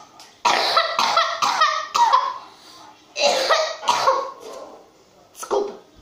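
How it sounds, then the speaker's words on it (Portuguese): Several bursts of coughing, close and fairly loud, in two clusters separated by a short pause, with a final single cough. "eu tô com tosse aqui"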